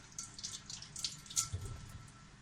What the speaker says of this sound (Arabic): اغسل ايدي